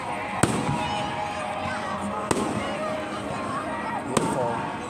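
Fireworks show at St. Greg's: a few distant sharp bangs ring out at intervals over continuous crowd murmur and nearby voices.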